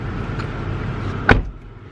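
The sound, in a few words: getting into a car, car door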